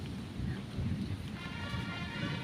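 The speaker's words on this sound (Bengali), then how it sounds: "অনেক বৃষ্টিটা পড়তেছে" Heavy storm rain pours steadily outdoors, a dense, continuous wash of drops with a low rumble underneath, moderately loud and without voices.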